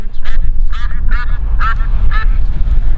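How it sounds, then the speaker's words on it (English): Duck quacking repeatedly on a disc golf course, five or six loud nasal quacks in an even rhythm over a steady low outdoor rumble. "There's you got a duck over there, man."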